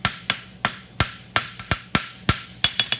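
Hammer blows on a horseshoe as the farrier feathers out its edge to widen it, about a dozen sharp metallic strikes in a steady rhythm, some in quick doubles, close and loud with no talking.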